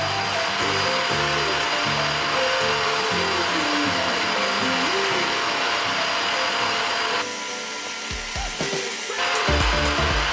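An upholstery cleaning machine for sofas and car seats runs with a loud, steady motor whine and rushing suction. The drone holds throughout, with a brief shift in tone partway through.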